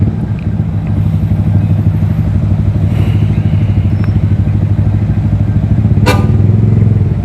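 A Yamaha R15 V3 motorcycle fitted with a Daytona Evolution exhaust idles with a steady, loud rumbling burble, joined by a brief sharp crackle near the end.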